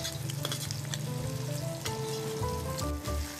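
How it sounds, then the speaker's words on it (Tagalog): Tomato paste fries in a hot pan with garlic and onion, giving a steady, close sizzle and crackle with occasional stirring scrapes. "pag gagamit tayo ng tomato paste ay i-fry muna natin para pampadagdag ng flavors"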